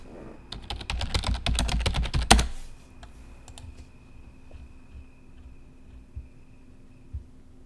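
Fingers type a vehicle's make and model on a computer keyboard, a quick burst of close key clicks for about two seconds, then a few scattered taps in a quiet room.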